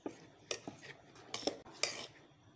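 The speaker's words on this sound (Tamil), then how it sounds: "உப்பு ஆட் பண்ணதுக்கப்புறம் நல்லா மிக்ஸ் பண்ணி விட்டுக்கோங்க." Salted pearl millet dosa batter is mixed by hand with a spoon in a vessel, giving a handful of sharp, irregular metal clinks and scrapes close by, with no talking.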